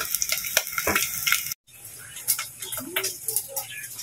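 Meat browning in a hot pan for a Filipino mung bean stew, a steady broadband sizzle and crackle, close and fairly loud, with a short break in the middle before the frying resumes.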